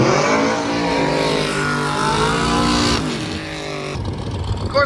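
Drag racing cars roaring down the strip at a stick shift event, loud sustained engine howl with rising and falling pitch as they accelerate, fading as drivers lift off near the end.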